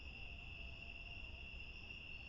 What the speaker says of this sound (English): no wind blowing, other than the night creatures, crickets and katydids